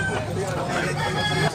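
A bullstag gamecock at a poultry market in Tabunok, Cebu, crows loudly and close by, a single drawn-out call over a background of crowd chatter and voices.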